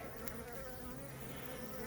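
Honeybees buzz at an open hive, a dense continuous hum of many wings close by and holding steady throughout.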